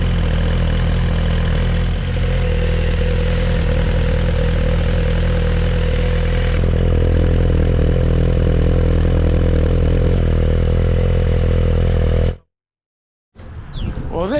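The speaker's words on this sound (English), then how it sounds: "Let's turn on the bike" A 2022 Suzuki GSX-R 1000R sport motorcycle idles close by with a steady, even engine rumble that runs unbroken for about twelve seconds, then cuts out abruptly before faint handling noises follow.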